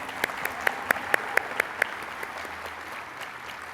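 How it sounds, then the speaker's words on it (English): Audience applause at a business event about SoftBank and Revolution investing in entrepreneurs, with about eight sharp, evenly spaced claps standing out over a softer background of clapping that trails off. "let's give them a very warm hand of applause"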